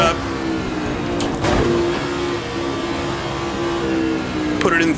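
An F1 car in Assetto Corsa, Gilles Villeneuve's ideal design, accelerates with a steady buzzing engine tone rising in pitch, close and continuous, with a brief gearshift blip near the end.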